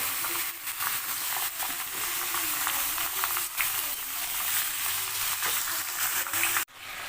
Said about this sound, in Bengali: আমি একটু চিকেনটা ফ্রাই করে নিই